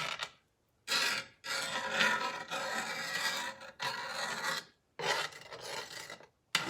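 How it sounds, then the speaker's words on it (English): A metal spoon scrapes the bottom of a cast iron skillet in a row of loud, rasping strokes, each lasting about a second, with brief silent gaps between them. "I started out with my my metal spoon so that I could scrape off the bottom, all the goodies off the bottom of my cast iron pan"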